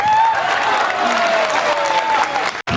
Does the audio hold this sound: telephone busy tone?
no